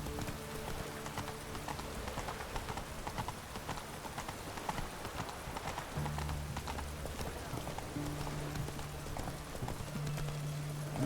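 Horse hooves clip-clop steadily in The Witcher 3: Wild Hunt, a continuous close rhythm of hoofbeats over a low ambient game backdrop, with no speech.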